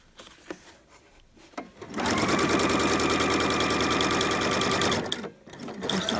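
A sewing machine stitches around the curve of a shirt collar stand in one steady, loud whirring run of about three seconds, preceded and followed by quiet handling noises and fabric shuffling.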